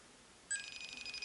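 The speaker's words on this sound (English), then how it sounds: "Seven rings! Bloody answer the phone!" A telephone starts ringing partway through, a bright electronic trill that sounds once and continues to the end, moderately loud against a quiet background.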